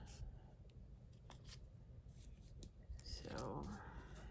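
Scissors snip around a paper flower cut with a stamping die set, making close, soft cuts and paper rustles while someone talks quietly.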